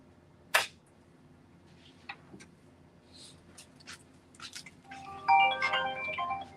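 A phone rings with repeated incoming calls, faint and distant at first and then a louder electronic ringing burst near the end, in a quiet room during a rhinestone crafting session.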